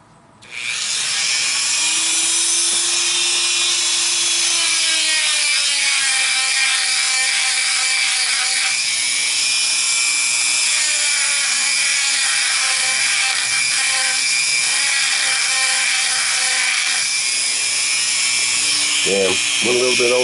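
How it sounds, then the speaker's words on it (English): A Dremel rotary tool grinds out and enlarges the centre hole of a handmade ring, a steady high-pitched whine held close and loud for most of the stretch, with small shifts in pitch as the bit bites and eases. "I'm going to waller out the center of the hole a little bit. Make it a little bigger using my Dremel and this bit."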